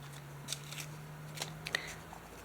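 Scissors make a few quiet snips through paper for a junk journal page, faint and close, isolated cuts over a low steady hum.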